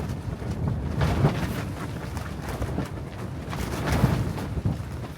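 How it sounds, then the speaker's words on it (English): Strong blizzard wind buffets the microphone in irregular gusts of about 60 km/h, a rough, rumbling roar that surges and eases with no one speaking. "So we're talking about gusts of 60 kilometers an hour."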